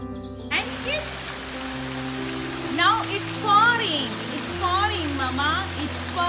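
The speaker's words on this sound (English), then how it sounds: "It's a heavy rain now." Heavy rain pours down onto ground with standing puddles, a steady, dense hiss that runs throughout while a voice talks over it.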